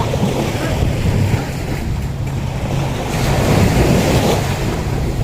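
Sea waves washing onto a Thai beach, a steady, loud roar of surf mixed with heavy wind buffeting the microphone, continuous for the whole stretch.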